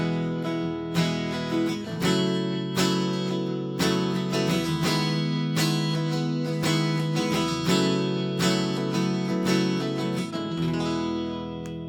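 Acoustic guitar through a wet preset on a Fractal FM9 modeler, strummed chords ringing with heavy reverb and a steady rhythmic strum, played alone without talk.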